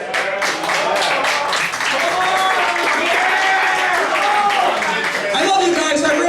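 Audience applause and clapping fill a comedy club show in Baltimore, a dense, steady patter that carries on throughout, with crowd noise and some voices mixed in.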